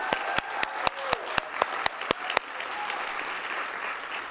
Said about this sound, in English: Deb Taylor, another round of applause